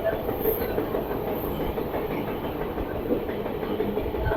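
A train rumbles steadily along the rails between Rayakottai and Bangalore, India, with a continuous low roar and faint rhythmic clatter, the sound easing as it slows down; no talking.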